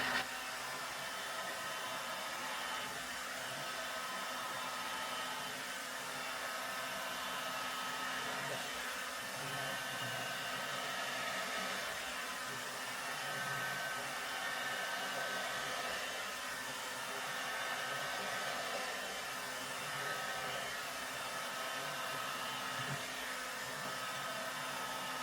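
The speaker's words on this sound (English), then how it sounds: "back to my hairdryer and creating." A hair dryer blows steadily on fluid paint, a continuous broadband whoosh that holds level and close for the whole stretch with no talking.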